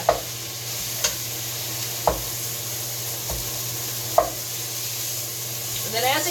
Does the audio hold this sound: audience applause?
no